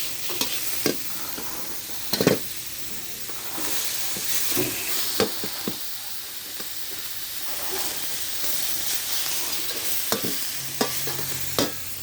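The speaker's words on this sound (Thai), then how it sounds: "ทำไมกระทะมันแตกๆวะ" Pork for Thai basil stir-fry sizzles in a pan, a steady frying hiss broken by scraping stirs and sharp clinks of the utensil against the pan, close and moderately loud with no talking.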